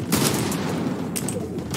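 Rapid gunfire from an online multiplayer video game rattles in a dense, continuous burst, loud and close, with a voice faintly under it.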